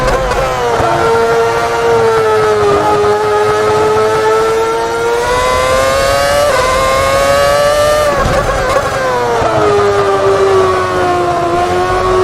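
A 2009 Ferrari F60 Formula 1 car at speed on track, its high-revving engine screaming loud and close, pitch rising through gears and dipping briefly on lifts before climbing again.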